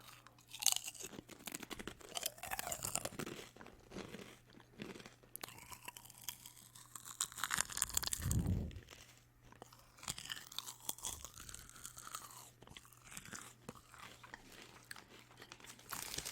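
A crunchy triangle-shaped, popcorn-flavoured snack is bitten and chewed close to the microphone, with crisp crunches and wet chewing in irregular bursts and light packet crinkles.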